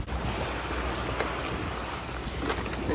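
Wind rushing steadily over a single-handed sailboat at sea off Baja California, a broad constant roar with water noise mixed in, close and fairly loud throughout with no voices.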